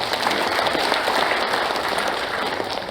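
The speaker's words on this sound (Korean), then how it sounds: "박수로 부탁드리겠습니다" Applause from an audience at the founding assembly of a national association of families of victims of the Yeosu-Suncheon October 19 uprising, a steady, dense clapping that holds at an even level for the whole stretch.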